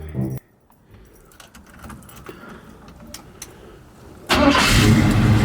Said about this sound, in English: That thing crank up so easy now, boy. So much easier